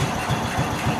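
A John Deere Gator 4x2 utility vehicle engine, mid-restoration, runs at a steady idle with a rhythmic low thumping pulse, close and fairly loud, with no talk over it.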